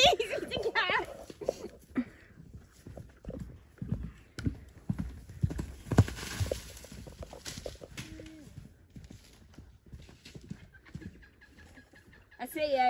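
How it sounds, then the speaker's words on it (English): Horse galloping around a paddock, its hooves pounding in irregular bursts, with chickens clucking nearby and people talking over it outdoors. "I'm really wound up by him galloping around."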